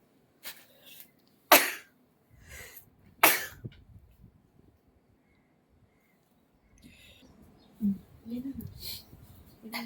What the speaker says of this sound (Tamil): அதுக்குள்ள தும்மல் வந்துருச்சு